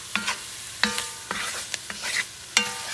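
Chopped garlic sizzling in a pot for Louisiana-style gumbo with sausage, chicken and shrimp, with a spoon stirring it in quick repeated scrapes over a steady soft sizzle.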